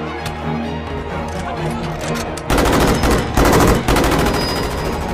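Bursts of gunfire crackle loudly over a dense, noisy background, growing heavier partway through with rapid overlapping shots.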